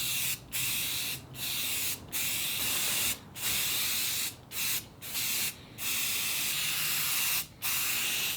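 Primer sprayed from a can onto an old, crusty wooden workbench comes as a series of loud, hissing bursts, each one to two seconds long and split by brief pauses, with no talking.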